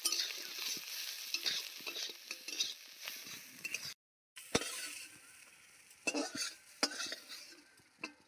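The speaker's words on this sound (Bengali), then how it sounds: "সেই একই কড়াইতে চিংড়ি মাছটা ভেজে নেওয়ার পর এবার রান্নাটার জন্য দিয়ে দিচ্ছি তেল। তেলের মধ্যে দিয়ে দিচ্ছি 5 ফোড়ন।" Five-spice seeds crackle in hot oil in a wok after prawns were fried in it, a soft sizzling broken by spatula scrapes and metal clinks, briefly cutting out midway.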